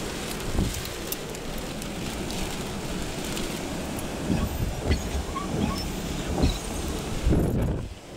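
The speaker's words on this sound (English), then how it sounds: "Oh, it's getting windy. Really windy." Strong, gusting wind during a thunderstorm in Lyndonville, Vermont, a broad rushing roar with pattering rain and buffeting bursts against a shaking car, heard close and continuous with no voices.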